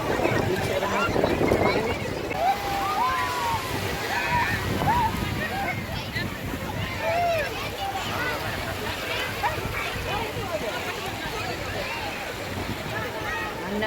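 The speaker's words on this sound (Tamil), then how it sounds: "அலை வந்துட்டு மண் அப்படியே உள்ளே போகுது." Sea waves sloshing and washing over sand continuously, a busy wet churn with splashes, heard close, while people talk over it the whole time.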